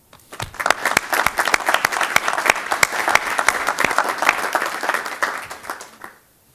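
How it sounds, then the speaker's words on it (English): A room at a Fargo city commission regular meeting breaks into a round of applause to welcome new commissioners, a dense wash of many hands clapping close by that runs about six seconds and then stops abruptly. "we give you a round of applause"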